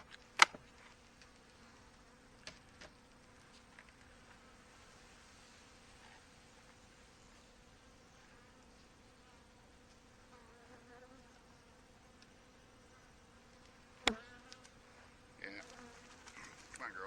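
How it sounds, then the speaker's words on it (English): Honey bees shaken out of a hive box hum steadily at low level through the whole stretch, with a few sharp knocks and clatters near the start and toward the end. "I'm going to shake these bees out."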